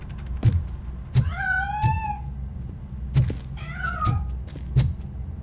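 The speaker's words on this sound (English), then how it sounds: "That cat must be hiding inside." A cat in the video game RoboCop: Rogue City gives two drawn-out, wavering meows, close and clear, between regular dull knocks and thumps.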